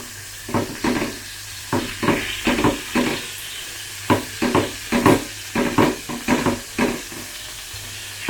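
A wagyu rib eye steak frying in hot oil gives a steady sizzle, broken by rhythmic scraping and stirring strokes, close and fairly loud, with no voices.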